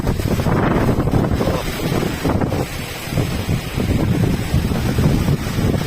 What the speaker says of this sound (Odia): ଏତେ ଜୋର ପବନ।